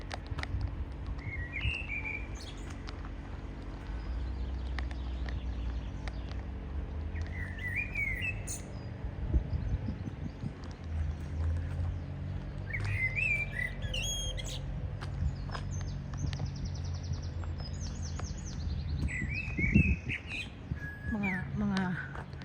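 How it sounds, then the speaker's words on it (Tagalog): Birds chirp and tweet in short bursts scattered through the clip, fairly distant, over a steady low outdoor rumble with some voices in the background, in a botanic garden in the afternoon. "mga tunog ng ibon ang inyong maririnig"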